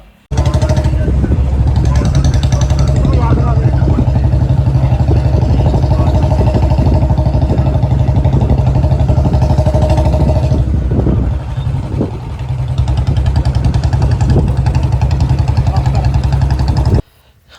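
A motorcycle engine runs loud and steady at idle in a gurdwara parking area, a low continuous rumble with a brief dip partway through before it settles again.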